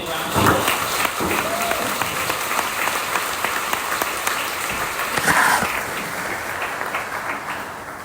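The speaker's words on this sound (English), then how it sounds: "Let's give Michele a big round of applause." A conference audience at LangChain Interrupt 2025, a tech event, breaks into sustained applause, a dense wash of clapping filling the room for several seconds, with some voices beneath it.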